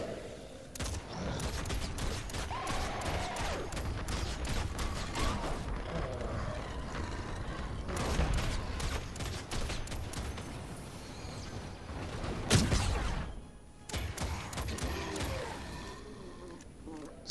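The Basilisk gun fires in Fortnite Save the World, a rapid, steady stream of shots layered over game effects for most of the clip, with a short pause near the end.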